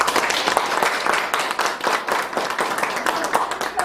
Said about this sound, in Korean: 여러분 감사의 박수 좀 부탁드리겠습니다.